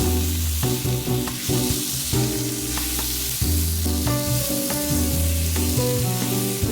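Basil pesto sauce sizzles in a pan as it is stirred, giving a continuous frying hiss under a steady tonal backdrop, with no voices.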